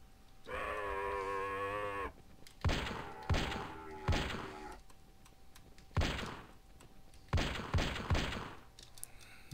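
Gunshots in the video game Carnivores Dinosaur Hunter ring out as a series of sharp, booming reports, some in quick pairs, spaced with gaps, following a long drawn-out bellowing animal call at the start.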